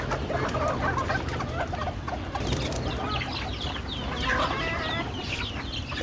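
Chickens and young chicks cluck steadily near by as they are let out on a rooftop garden, a busy layered flock chatter with a few sharper calls, holding at an even level throughout.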